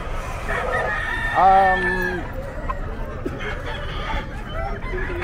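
Fighting cocks, bull stags and stags for sale at a crowded Bocaue pet market, one rooster crowing loudly and nearby amid steady clucking and market chatter, with people talking throughout.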